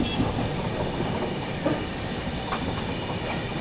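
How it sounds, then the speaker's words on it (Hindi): Dibrugarh Rajdhani Express rolling around a curve through hilly country, a steady rumble of wheels and carriage noise with faint clickety-clack and a few light high squeals, heard from inside the 3AC coach. "अभी देखो ट्रेन अपनी घूमना शुरू हो गई है।"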